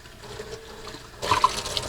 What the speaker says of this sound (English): And we're going to rinse this stuff off.